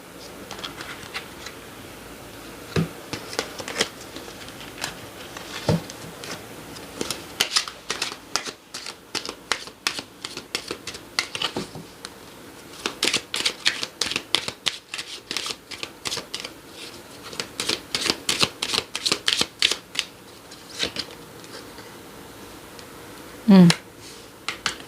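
Tarot cards being shuffled, a long run of rapid riffling flicks and soft slaps that swells and fades in bursts over steady low background noise.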